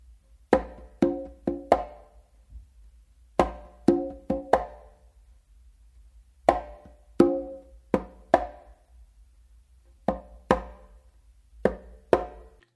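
Closed slaps on congas crack out sharply in quick groups of two to four, separated by short pauses, crisp and close in a quiet room.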